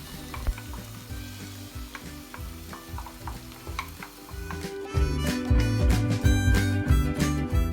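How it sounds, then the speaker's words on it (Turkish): Lentils and sautéed vegetables are stirred in a pot for lentil soup, a steady sizzle under rhythmic scraping of a spoon, growing louder and busier halfway through, close up with no talking. "Mercimeğimizi attık. Sebzelerimizle birlikte karıştırdık."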